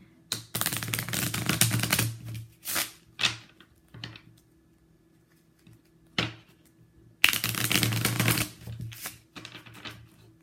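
Playing cards being shuffled in several close, crisp bursts of riffling and flicking, with short quiet gaps between.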